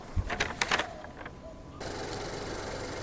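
A 2021 Honda City SV with a 1.0-litre turbo three-cylinder engine runs under an open hood, a few sharp clicks and taps first, then a steady close idle hum.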